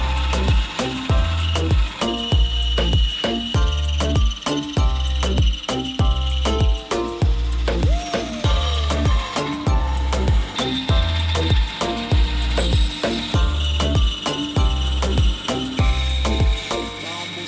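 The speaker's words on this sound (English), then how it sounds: "So we've got a new blade in the bandsaw. We'll get this side cut out" A bandsaw with a new blade cuts through wood with a steady, rhythmic rasping and repeated clattering knocks, loud and close, continuing for the whole stretch without speech.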